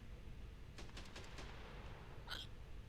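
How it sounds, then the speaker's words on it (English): Hiccups in a simple zombie game: a few soft, rapid hiccup-like jolts, then one sharper, clearer hiccup near the end, faint over a low hum. "Hiccups."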